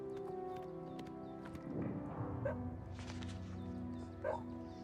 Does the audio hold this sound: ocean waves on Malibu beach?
no